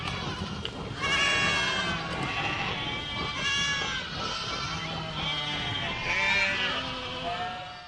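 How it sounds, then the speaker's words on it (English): Several goats bleat repeatedly, wavering cries overlapping one another at close range over a noisy farmyard background. "The next time you hear a goat, take a moment to really listen."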